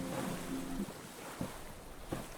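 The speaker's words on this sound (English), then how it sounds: "I set sail for the next island." A raft sailing across open ocean in the survival game Stranded Deep, heard as a steady wash of waves and wind rushing past, with a few soft knocks and splashes against the hull.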